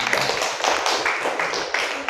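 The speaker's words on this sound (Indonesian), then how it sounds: "Beri tepuk tangan." A class of students claps in the classroom, with a brisk, steady patter of hands at moderate loudness and faint voices mixed in underneath.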